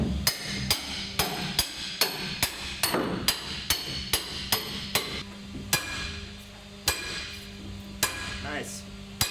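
A boat's keel bolt is driven in with steady, ringing hammer blows, using the old original keel bolt as a driving rod, about a dozen sharp metallic strikes in a regular rhythm, close by.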